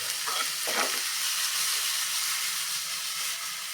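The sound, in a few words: vegetables being sautéed in a pan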